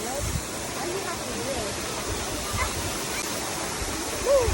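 Jeongbang Waterfall on Jeju, a steady broadband roar of falling water filling the scene evenly throughout, with a faint voice briefly rising near the end.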